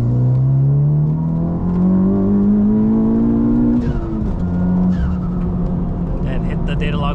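Honda car pulling in third gear at wide-open throttle from 2000 RPM: a loud, close engine note climbs steadily for about four seconds, then falls away as the throttle closes, with a continuous droning tone throughout.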